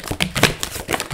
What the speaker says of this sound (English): I'm just gonna shuffle out some more cards.